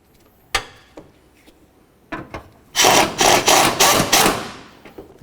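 Mounting bolts are snugged down on a 2004-2006 Scion xB headlight, giving a few sharp metallic clicks and then a loud run of rapid ratcheting bursts close by.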